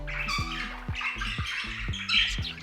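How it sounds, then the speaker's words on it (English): A budgie gives rapid, scratchy chirps and squawks close up, chattering busily in short bursts over a soft background. "Quiet chirps and whispers are subtle yet delightful indicators of a happy and content budgie."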